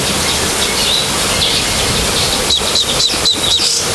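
Baya weaver birds with young give short, high, thin chirps in repeated bursts. The calls come over steady broadband background noise, moderately near, with a cluster of quick tweets toward the end.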